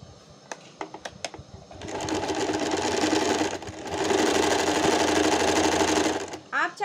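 Automatic sewing machine embroidering a pattern along a fabric neckline, with steady loud continuous mechanical stitching in two long runs, separated by a brief pause, after some clicks and handling noises at the start.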